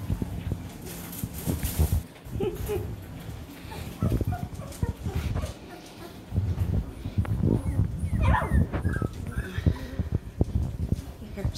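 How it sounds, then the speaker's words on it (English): Young puppies in a litter about sixteen days old make small growls and whimpers amid rustling and shuffling movement, close by, with a person talking intermittently over them. "They're little growls."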